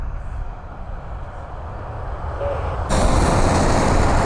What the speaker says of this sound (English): Delta Airlines Flight 2377, A320 inbound from Atlanta